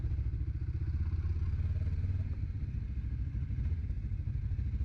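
A motorcycle engine runs loud and close without pause, a dense low pulsing rumble with slight clatter that holds steady for the whole stretch, no voices over it.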